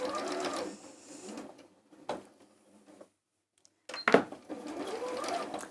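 A sewing machine runs in quick, close bursts of rapid mechanical stitching, broken by short pauses and a sharp clack, on a live dressmaking and craft shopping broadcast.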